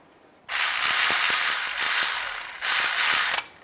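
Ratchet wrench tightening timing chain bolts on a 2007-2013 Chevy Silverado engine, a rapid continuous clicking in two bursts with a short pause between, close and loud.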